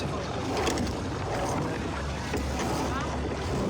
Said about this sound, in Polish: No i teraz nam wieje tym pierwszym żaglem w drugą stronę